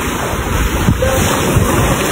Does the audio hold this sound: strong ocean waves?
yes